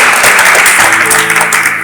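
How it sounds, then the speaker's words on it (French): Congregation applauding in a church, a loud close burst of many hands clapping that holds steady and then begins to thin, with no talk over it. "Est-ce qu'on peut applaudir pour le roi Salomon?"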